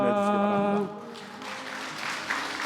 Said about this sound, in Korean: 축하하는 마음으로 크게 한번 박수를 보내주시기 바랍니다